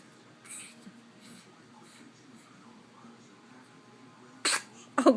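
A baby's sneeze bursts out near the end, a sharp close burst followed by a second rough sneezy sound, after quiet breathing and soft background noise.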